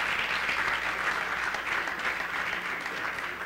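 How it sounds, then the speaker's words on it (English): Sustained applause from a workshop audience, a full, even wash of clapping that stays loud and close for the whole stretch with no talk over it. "give yourselves a huge round of applause."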